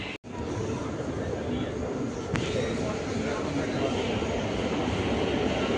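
Kolkata metro train pulling into a station, a steady broad rumble and rush of wheels and air filling the platform, loud and continuous with a brief dip near the start and a short screech midway.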